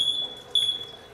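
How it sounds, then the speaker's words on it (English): A chlorine pump failure alarm in a water treatment setup for fire pump storage gives two short, high, thin electronic beeps about half a second apart, fairly faint over a quiet background hum. "If this pump fails for any reason, then I get my alarm"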